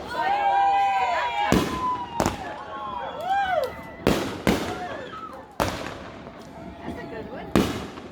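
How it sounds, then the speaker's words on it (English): Fireworks burst over a lake in a series of sharp, loud bangs spaced a second or two apart, with crackling and whistling trails between blasts and people talking in the background. "there goes the firework on the other side of the lake."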